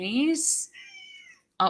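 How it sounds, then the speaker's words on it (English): A house cat lets out one loud, drawn-out meow close to the microphone, with a person speaking briefly just before and after it. "That was a cat just screaming."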